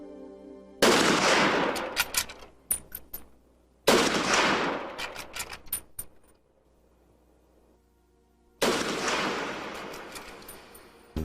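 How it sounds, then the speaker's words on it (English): Three loud rifle shots fired within eight seconds, each a sharp blast with a long rolling echo and scattered metallic clinks trailing after, the third coming after a longer pause. "Let's see what the view through the scope looks like if 3 shots are fired within 8 seconds."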